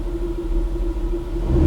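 A car engine idles with a steady low rumble and a constant hum, and the sound rises slightly at the end as the throttle is blipped. It is close and fairly loud, with no talking.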